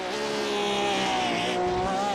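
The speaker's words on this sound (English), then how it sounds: "Love the sound of these Porsches." Porsche race cars circling Sebring in iRacing, a steady high engine whine with shifting harmonic tones that hold and slide in pitch, loud and continuous with no talk over it.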